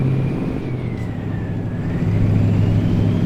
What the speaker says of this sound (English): I want to get the RPMs going and see what this truck really does sound like